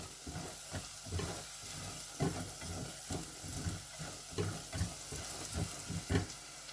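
Chillies fry in a pan with a steady sizzle, broken by repeated stirring scrapes and clatters at an uneven rhythm, close and fairly quiet, with no talking.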